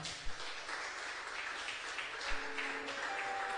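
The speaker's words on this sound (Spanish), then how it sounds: "¿Cuánto le dan un fuerte aplauso al Señor?" A church congregation applauds the Lord during a worship service, a steady, faint wash of clapping that carries on unbroken throughout.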